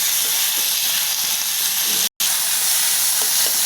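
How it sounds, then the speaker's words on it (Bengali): Boiled flat beans frying in hot oil, a loud continuous hissing sizzle close up, broken by one abrupt dropout midway, no voices. "সিমটা সেদ্ধ করে আগে তেলে ভেজে নিচ্ছে"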